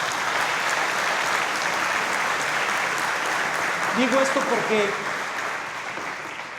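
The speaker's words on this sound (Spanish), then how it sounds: "Un aplauso para ustedes por estar aquí." An audience at a speaker event in Los Angeles applauds in a steady wash of clapping while someone speaks Spanish over it, and the applause fades slightly toward the end.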